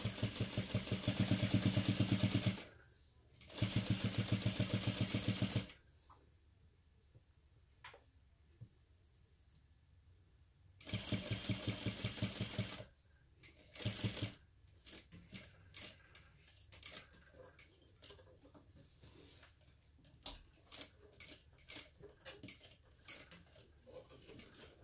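Sewing machine back-stitching a nylon coil zipper on a crossbody bag, with several loud bursts of fast, even mechanical stitching between quiet stretches of faint clicks and handling noise.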